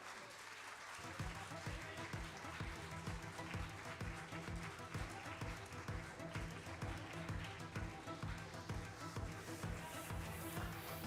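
Sustained applause from an audience at a youth parliament prize ceremony in Hyderabad, Telangana, steady dense clapping starting after a brief pause and continuing throughout with crowd noise.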